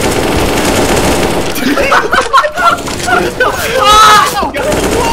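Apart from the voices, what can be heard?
AK rifle gunfire in a video game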